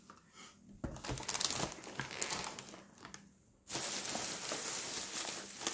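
A 22-square-foot aluminum foil package crinkles and rustles in bursts close up, with a brief pause before a louder, sustained crackling stretch.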